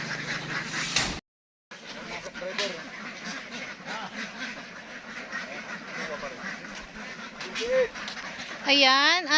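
Ducks quack repeatedly in a nasal, overlapping chorus while they are loaded up. The close, busy calls are cut by one brief silent gap and grow louder and denser toward the end.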